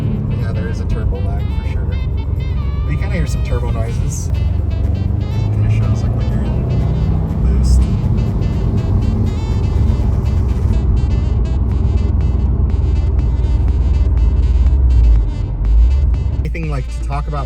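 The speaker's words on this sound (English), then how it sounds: "there is a turbo lag for sure. But you kind of hear some turbo noises" A 2020 Subaru WRX STI drives under a loud, steady engine drone with turbo whoosh and rumble, while people talk over it throughout.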